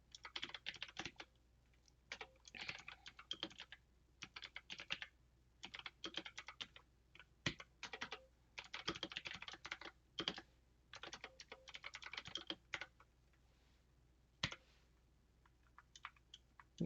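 Bursts of quick keyboard typing while C++ code is written in VS Code, clustered clicks in irregular runs separated by short pauses, close and fairly quiet, with no voices.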